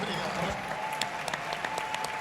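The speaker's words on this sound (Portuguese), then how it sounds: "E se você quer aplaudir, eu gostaria que aplaudisse por essa mudança na Palmares" A conference audience at CPAC 2021 applauds, a steady patter of many hands clapping at moderate volume, with a faint voice underneath.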